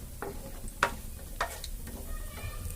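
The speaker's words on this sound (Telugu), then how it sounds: "శనగపప్పు ఫ్రై చేసుకుందాం" Chana dal and cumin seeds fry in hot oil in a pan, giving a soft, steady sizzle under a few scattered stirring clinks and taps, close and moderately quiet with no talk.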